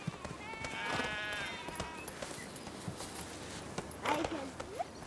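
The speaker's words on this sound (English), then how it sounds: "It's a man on a white horse." A white horse approaches on an old country estate, hooves clip-clopping in faint, irregular steps amid outdoor ambience, with a few scattered voices calling in the background.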